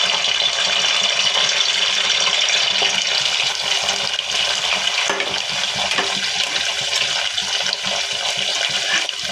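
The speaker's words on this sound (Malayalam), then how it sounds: "വെളിച്ചെണ്ണ ചൂടായപ്പോഴേക്ക് കറിവേപ്പില ഇട്ട് കൊടുത്തു." Curry leaves crackle and sizzle as they hit hot coconut oil in a pan for a chicken curry, a loud, continuous frying hiss with small pops throughout.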